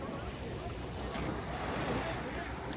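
Choppy sea waves wash and churn continuously near the fort in Havana, a broad steady surf roar mixed with gusting wind noise against the microphone.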